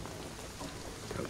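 Steady hissing rain pours in Shadow of the Tomb Raider, a dense continuous wash of falling water on surfaces with a low rumble underneath and no voices.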